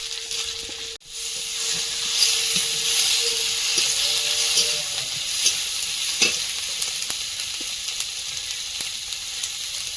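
Chopped onion, green chili and whole garlic cloves frying in hot oil in a pan, a loud, continuous close sizzle and hiss with a sharp clink near the start and occasional faint stirring taps.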